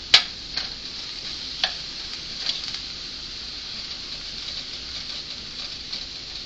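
Ground beef made from 85% lean meat frying in a little oil, with a continuous hiss and crackle of sizzling fat and a few sharp scraping taps as a spatula breaks up the meat.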